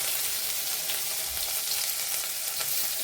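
Crushed green chilli, garlic and ginger paste sizzles in hot tempering oil for a Marathi horse gram soup, a steady loud hiss throughout with no voices.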